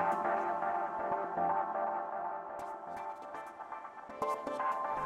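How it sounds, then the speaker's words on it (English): Layered guitar music with a strange arpeggiated keyboard synth pattern woven through it, dense and steady at moderate loudness, with brief brighter plucked accents later on. "some kind of weird arpeggiated noise in the background"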